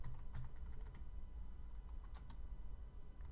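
Keys clatter on a Porodo wireless keyboard in quick, uneven bursts of close clicks over a low background hum.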